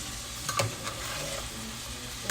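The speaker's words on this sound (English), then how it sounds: "Just mix it up in there." Jambalaya being stirred in a pot as it browns, with a steady close sizzle and a few soft scraping strokes over about two seconds, no voices.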